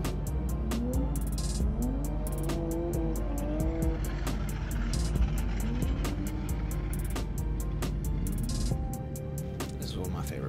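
Drift car engine at a Midpond drift event, revving and wailing in rising and falling pitch sweeps with sharp popping and tire noise, fairly close and busy, with crowd and background chatter mixed in.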